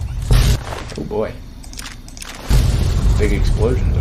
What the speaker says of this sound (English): Big explosions over there.